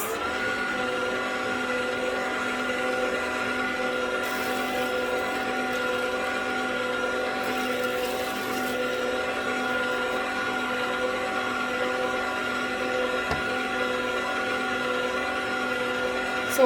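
An electric mixer beats flour and milk into vanilla cake batter with a steady, loud motor whine and droning hum that runs unbroken, with faint scraping now and then.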